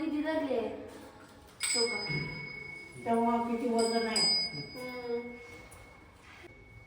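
A temple bell at the Nana Mauli shrine in Bori village rings with bright, lingering metallic tones, struck several times amid people talking nearby.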